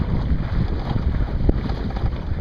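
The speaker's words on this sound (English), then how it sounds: "It's gusty in here, as it always is." Gusty wind buffets a Montgomery 15 sailboat beating to windward on a lake, a steady broadband rush with low rumbling gusts and water noise, no talking.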